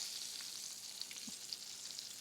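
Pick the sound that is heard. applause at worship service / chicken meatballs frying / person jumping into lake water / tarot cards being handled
chicken meatballs frying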